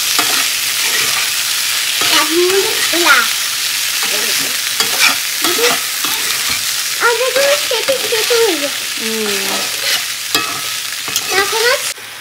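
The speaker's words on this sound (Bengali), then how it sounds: "তো বন্ধুরা, এখানে মিক্সড সবজি রান্না করছি।" Mixed vegetables with potato, papaya, plantain, pumpkin and soaked sago cooking in a pan, with steady sizzling and repeated stirring scrapes, close up, under a soft voice in the background.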